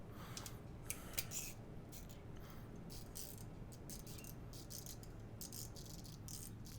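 Milwaukee and GearWrench 1/4 in. drive ratchets, one a 120-tooth dual-pawl design, clicking side by side in a fast, continuous fine ratcheting rattle with a few sharper clicks, close and steady, no talk.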